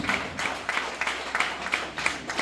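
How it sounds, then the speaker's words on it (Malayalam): Audience at a product testimonial event clapping in a steady, fairly quiet patter of hands, evenly spaced claps repeating through the short stretch with no voices. "എണീറ്റ് നല്ലൊരു കൈയടി നല്ലൊരു കൈയടി പ്ലീസ്"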